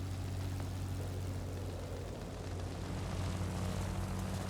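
Propeller warplanes from World of Warplanes, including an I-15bis and a Buffalo, drone steadily with a continuous engine hum and airscrew whine, loud and unbroken throughout.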